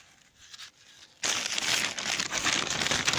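A plastic bag crinkles and rustles loudly and steadily at close range during an apple harvest, following a quieter stretch of faint handling.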